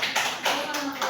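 Students in a classroom applaud a presenting group, several quick rhythmic rounds of hand claps close by, with a voice faintly underneath.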